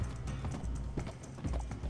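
Horse hooves clip-clop steadily and close in Red Dead Redemption 2 Online, a tired horse plodding along in a quick, even rhythm with no talking over it.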